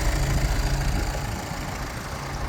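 Steady, even idle of a 2019 MAN TGE refrigerated van's diesel engine, a continuous low rumble heard close and fairly loud with no speech over it.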